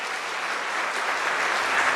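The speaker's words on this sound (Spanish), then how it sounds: "A ver, denle fuerte el aplauso al Señor." A church congregation bursts into applause for the Lord, a dense sustained wash of clapping that holds steady and swells slightly toward the end, with no talking.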